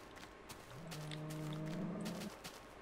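A single drawn-out cow moo in the video game Minecraft with the Tekkit modpack, fairly faint over quiet background ambience.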